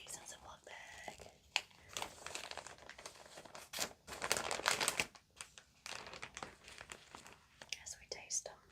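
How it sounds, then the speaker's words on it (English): Vegan snacks going into a Ziploc bag, the plastic crinkling and rustling in irregular bursts close to the mic while a person whispers. "So we're going to stick these in a Ziploc bag."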